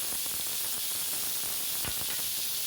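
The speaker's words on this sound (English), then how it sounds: "Delight yourself to the sizzling sound of the grill" Steady, dense sizzling hiss of a bife de chorizo steak cooking on a hot grill in Buenos Aires, with faint crackles and pops throughout.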